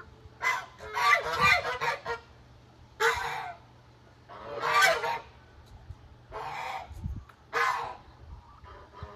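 Geese honking in a farmyard at feeding time, with repeated loud nasal calls in bursts, fairly close, and brief pauses between them.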